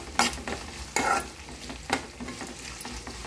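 Onions and a sprig of curry leaves sauté and soften in a pan, stirred a few times with sharp scraping strokes over a soft, steady sizzle, close up with no talking.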